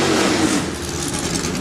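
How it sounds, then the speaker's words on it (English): A Chevrolet engine in a historic racing car at the Imola Classic, a loud, steady mechanical roar heard close and continuous for a brief moment. "You're familiar with the sound of a Chevrolet engine as well, Jan."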